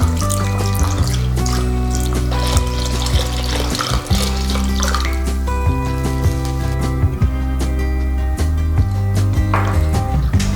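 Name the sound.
pouring water into bone broth powder and stirring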